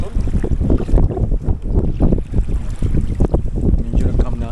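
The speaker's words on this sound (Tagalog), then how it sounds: "ang lakas ng alon" Strong waves slap and wash against a boat on open water near Manitoulin Island, Ontario, as a loud, close, continuous churning rush buffeted by wind across the microphone.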